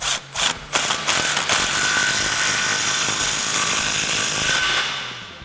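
An impact gun with a 16 mm socket snugs up an exhaust clamp on a 2009-2018 RAM 1500 5.7L dual exhaust, a few short ratcheting bursts then a steady loud hammering rattle lasting several seconds before tapering off.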